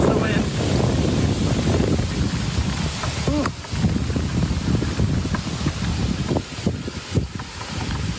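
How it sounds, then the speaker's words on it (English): Strong wind funnelled across small lakes during a canoe trip, roaring steadily into the microphone with gusty buffeting and faint water sounds, while a person talks intermittently. "we're kind of in small lakes that are like funneling the wind down in"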